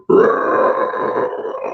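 A long, loud, deep burp from an adult man, a sustained guttural belch lasting well over a second, close up and alone with no talk.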